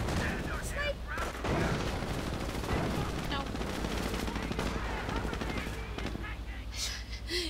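Sniper and other gunfire in a video game crackle in a dense, continuous barrage of close and distant shots, loud throughout with layered explosions and battle noise.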